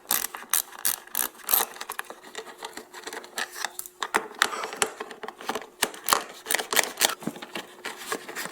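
A ratchet clicks in quick, uneven bursts while screws are backed out near the wheel well of a Ford Fusion, the close metallic ticking starting and stopping repeatedly.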